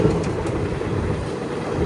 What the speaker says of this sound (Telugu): మన ట్రైన్ అయితే ఇక్కడ నుంచి కూడా బయలుదేరిపోయింది